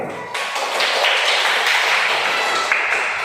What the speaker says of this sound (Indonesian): berikan tepuk tangan kepada kelompok satu